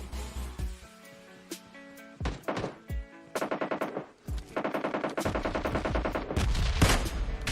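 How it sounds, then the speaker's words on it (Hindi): Rapid automatic gunfire from the mobile shooter PUBG Mobile Lite, with bursts of machine-gun fire and single shots in stuttering, overlapping volleys, loud and close, with no talking. "मुझे सामने की तरफ फायरिंग की आवाज़ आ जाती है"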